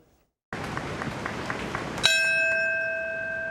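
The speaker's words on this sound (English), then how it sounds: "The first bell rang at 8:46" A single memorial bell at the Ground Zero 9/11 ceremony in Lower Manhattan strikes once after a murmuring crowd, its clear ringing tone lingering and slowly fading.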